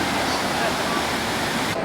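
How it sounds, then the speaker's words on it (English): Water splashes and rushes at an attraction in Universal Studios Florida, a loud continuous roar of falling water with voices faintly mixed in. "That water looks so refreshing right now."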